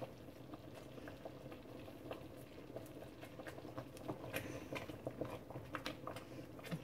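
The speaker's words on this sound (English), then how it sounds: "I want it to be hot enough that when I'm stirring it, I can't get the boil to go away" Apricot habanero BBQ glaze at a hard boil in a pot, with a steady low bubbling and popping that continues throughout, close by, and occasional soft clicks of stirring.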